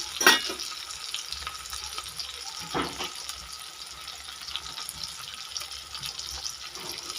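Tomatoes frying in oil with a little garlic in a home kitchen, a steady broadband sizzle and crackle running throughout, fairly close, with a few sharper spatters near the start.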